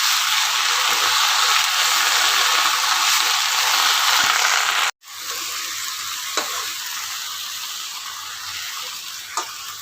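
Fenugreek (methi) vegetable is stirred in a sizzling pan, a loud, close frying hiss with light scraping, broken by a brief pause midway before resuming with occasional clicks.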